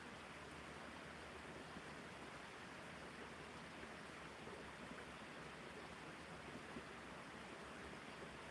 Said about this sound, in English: The water's wonderful, but it definitely picks up on the mic very, very actively.